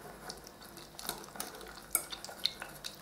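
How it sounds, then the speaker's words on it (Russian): Light scraping and occasional clinks of a utensil stirring an egg, milk and honey mixture in a bowl, quiet and close, with irregular soft taps. "Хорошо все размешаю."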